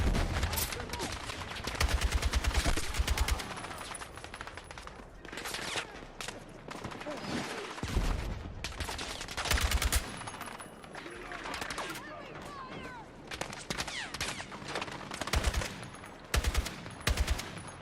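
Rapid bursts of automatic gunfire and single shots from a tactical shooter video game, loud and dense, recurring throughout amid chaotic effects, with players' voices talking over the shooting.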